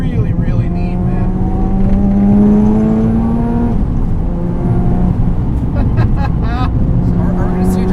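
A modified Mazda RX7 FD with a 400+ hp rotary engine drives along, its loud droning engine note steady and rising through the gears, heard from inside the car.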